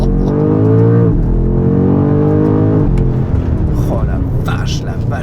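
A 2024 BMW M5 G90 with 727 hp launches hard from standstill under launch control, the engine revving up in rising harmonic sweeps through quick gear changes, loud and close from inside the car.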